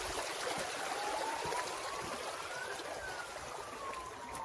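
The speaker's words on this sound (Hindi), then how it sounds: "पानी की आवाज़ सुनो जरा" Stream water rushing steadily past a trekking path behind a hotel in Ghizar, Gilgit, a continuous broadband wash with a faint whistle-like tone rising and falling through it, no voices.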